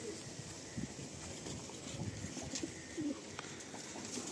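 A female Madrasi pigeon coos softly a few times amid faint background hum and a soft breeze, distant and low in level, with no talking.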